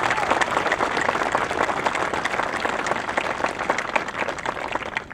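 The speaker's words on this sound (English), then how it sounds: "Let's give them another round of applause." An audience at a dedication ceremony in Long Beach, New York, applauds Billy and Janice Crystal with steady, dense clapping that holds at an even level throughout.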